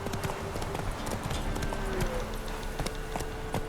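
Roach, a horse in The Witcher 3, trots along with a steady rhythmic clip-clop of hooves, moderately close and fairly quiet, continuing for several seconds with no voices.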